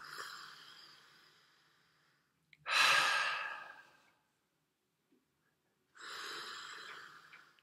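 Slow, deliberate breaths through a blocked nose, close and quiet: a long fading exhale, then a strong airy inhale after a pause, and another long breath near the end, separated by near-silence.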